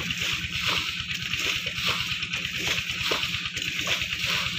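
Water gushes from a running tube well: a steady, loud rush of flowing water with a rhythmic low thumping beneath it that continues without a break.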